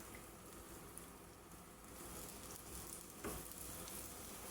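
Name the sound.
saba bananas frying in olive oil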